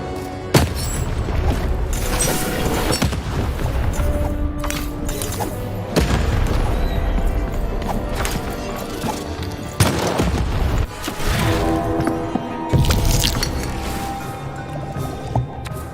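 Cannon fire in the video game Lost in Random, heavy booming blasts over a dense, loud game soundscape, with several sharp impacts spread through the stretch.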